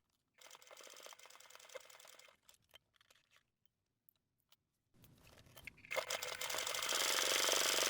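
A sewing machine top stitching the opening of a cross body bag at a 4 stitch length runs in a steady whirring burst, falls silent with a few small clicks, then starts up again and builds to a louder, sustained run.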